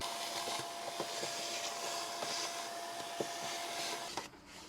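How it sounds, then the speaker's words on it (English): A vacuum cleaner whirs steadily at close range while cleaning out a Cadillac CTS air filter housing, with small knocks and bumps as it moves, then cuts off near the end. "I'm probably gonna go grab a vacuum just to vacuum it out."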